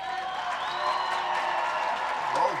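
A crowd cheers and applauds at a taolu competition, a steady wash of clapping and voices with a few whoops rising near the end.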